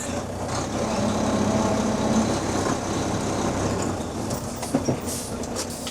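The sliding tandem axles of a semi-trailer give a steady, heavy rumble with faint rattling, close by. A sharp metallic clunk comes near the end.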